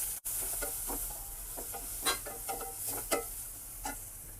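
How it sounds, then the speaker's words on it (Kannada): Tomatoes frying in a pan with turmeric, pepper powder and asafoetida, a soft steady sizzle broken by faint scraping stir strokes, quiet and close. "ಟೊಮೊಟೊ ಸ್ವಲ್ಪ ಸಾಫ್ಟ್ ಆಗೋವರೆಗೂ ಫ್ರೈ ಮಾಡ್ಕೊಳ್ಳೋಣ."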